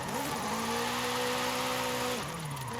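A BMW 5 Series saloon sliding through a drift in Forza Horizon 5, its engine holding a steady high whine with a continuous tire squeal, loud and close, ending as the revs drop.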